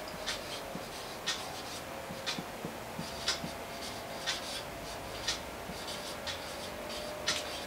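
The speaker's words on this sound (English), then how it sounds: "So we start by drawing a single bond." A pen scratches short strokes on paper while drawing a single bond line in a chemistry diagram, quiet and close, in a row of faint, evenly spaced scrapes and taps.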